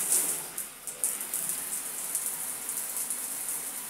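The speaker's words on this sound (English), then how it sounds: "Nice shower. Turn it off." A shower runs in the bathroom of a brand-new model home, a steady hiss of spraying water with small splashy bursts, fairly faint and alone.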